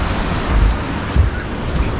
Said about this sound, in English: Y'all can hear the water.